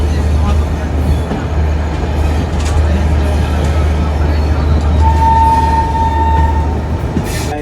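The Jammu Tawi–New Delhi Rajdhani Express pulls out of Jammu Tawi station with a steady, heavy rumble of rolling wagons. A thin, sustained whistle-like tone rises briefly above the noise midway through.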